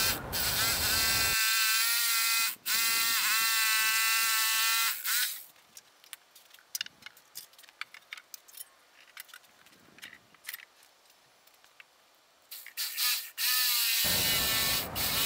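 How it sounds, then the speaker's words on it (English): A jigsaw fitted with a medium metal-cutting blade saws through a Chevy rubber truck bed mat, giving a loud, steady buzzing whine that starts, drops away for several seconds in the middle, and then returns near the end. "the jigsaw will cut through the rubber really easy with that medium metal blade"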